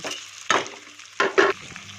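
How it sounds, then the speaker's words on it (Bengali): Rice, potatoes, salt and spices are stirred in a pan for muri ghonto, making two or three short, close scraping bursts over a quiet background. "আলতো হাতে ভালো করে নেড়ে দিয়ে দেবো চালটা আলু মশলাপাতি"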